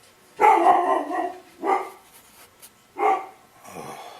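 A dog barks outdoors near a painting session, four loud, close barks spaced about a second apart, with a softer whimpering tail at the end.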